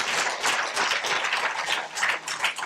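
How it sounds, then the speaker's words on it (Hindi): An audience at a lecture on evidence-based natural drug development breaks into applause, a dense, loud wash of many hands clapping that swells and dips slightly but never stops. "कोरोनिल की ताली बजानी चाहिए"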